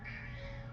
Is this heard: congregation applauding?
no